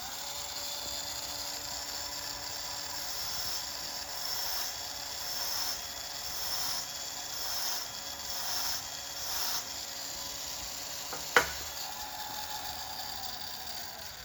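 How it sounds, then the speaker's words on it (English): A Proxxon angle grinder with a Distar blade whines steadily while its blade is sharpened against a dressing stone, with rhythmic rasping pulses and a sharp knock near the end. "Let me use a dressing stone just quickly, yeah,"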